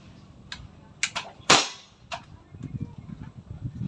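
A JBC PCP airgun fires one sharp, loud crack, preceded and followed by fainter metallic clicks and taps, with a low rumble of faint voices toward the end.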